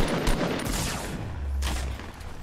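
Gunfire in a video game: dense, rapid volleys of shots blending into a continuous roar, loud and close, with no clear speech.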